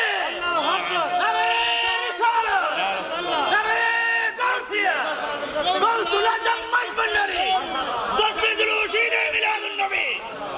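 At a Bengali religious sermon gathering, a large crowd shouts the takbir 'Allahu Akbar' in loud, repeated unison bursts. The chant is close and fills the whole stretch, with a lead voice calling out between the responses.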